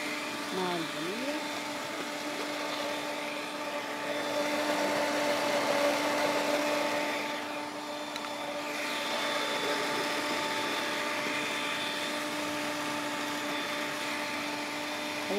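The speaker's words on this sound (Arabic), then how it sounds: "هنضرب البيض كويس في الخلاط" A steady electric blender beating eggs hums and whirs continuously at moderate volume, with a faint voice and slight shifts in motor pitch as it runs.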